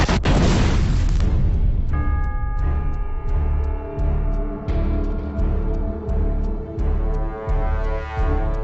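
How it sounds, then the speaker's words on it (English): Explosive blasts from a UFO attack on New York, a deep sustained boom followed by a series of heavy impacts and bursts, loud and layered over a dramatic musical score with no speech. "It's opening fire!"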